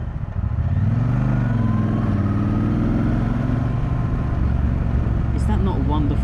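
A 2018 Triumph Bonneville Speedmaster Highway motorcycle engine revs with a deep, steady low rumble, loud and close throughout, rising and falling in pitch as the throttle is worked.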